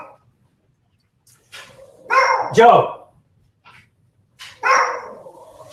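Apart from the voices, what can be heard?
dogs barking at someone at the front door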